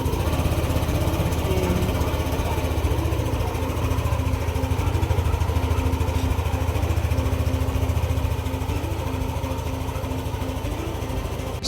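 A motorcycle engine runs after a magneto repair, a steady, loud buzzing idle with a fast, even putter heard close up and unbroken throughout.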